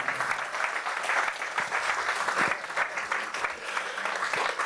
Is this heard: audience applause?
yes